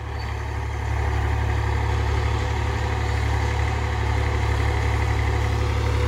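A Massey 245 tractor engine idles with a steady, loud diesel rumble and an even throbbing pulse that runs unbroken throughout, close by and with no voices.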